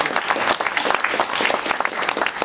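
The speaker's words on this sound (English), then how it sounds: "So we'll give another applause for the candidates this evening." An audience at a Boston Wards 4 & 5 Democrats candidate forum claps for the debate candidates, a steady, dense round of applause that fills the room without pause.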